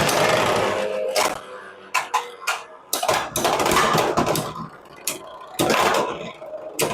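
Beyblade X spinning tops, including Black Shell BX-35 and Wizard Rod, battling in a stadium after launch: loud continuous whirring and grinding with sharp clashing impacts and rattles, a voice briefly audible over the clatter.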